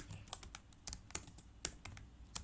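Keys clatter on a computer keyboard in quick, uneven bursts of close, crisp clicks, typed alone and fairly quiet with no talking.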